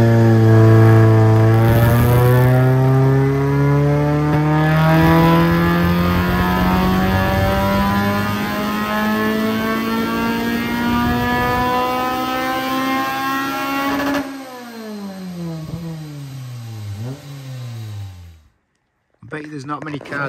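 A Honda Jazz with a swapped K20Z4 engine revs hard on a dyno, its pitch climbing steadily for about fourteen seconds, then falling away through several quick blips before it cuts off. The sound is loud and close.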